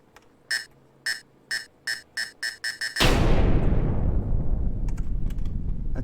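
Eight evenly spaced electronic beeps from a planted bomb in the heist game Perfect Heist 2, then a sudden loud explosion that roars and slowly rumbles away with scattered debris clicks.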